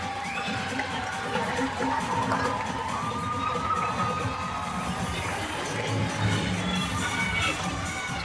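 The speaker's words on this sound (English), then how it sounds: "It's a little bit louder here, the crowd." A dense, steady roar of crowd noise in a basketball stadium at a women's under-22 grand final, with scattered shouts and cheers from the stands, continuous and fairly loud throughout.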